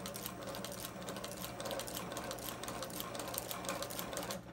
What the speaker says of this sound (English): gonna overlap the stitching a couple inches here.